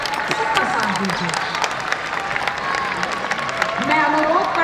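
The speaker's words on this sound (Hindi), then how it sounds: "तालियां बजाकर सबका साथ दीजिए" Steady applause from an audience at an International Yoga Day event, with some cheering, voices and a tonal hum mixed in, fairly loud and continuous throughout.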